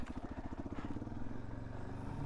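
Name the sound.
Suzuki DRZ 400S motorcycle riding a trail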